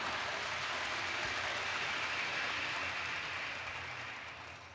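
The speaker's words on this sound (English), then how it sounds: "that's my Wabash engine this time pulling a train" Wabash PA model train engine pulling a train on dirty track, a steady close rolling rumble and hiss that runs throughout and fades slightly at the end.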